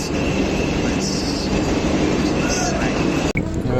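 Vande Bharat Express train going past a stopped train, a loud, close, continuous rushing roar of wheels and air with some squeal, broken by a brief dropout near the end.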